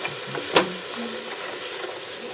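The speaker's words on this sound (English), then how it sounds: "I'm just going to stir that around so that the spices are nice and mixed in." A spoon stirs spices into mushroom soup in a pot, giving one sharp scrape against the pot followed by soft continuous sizzling and faint stirring, close and without speech.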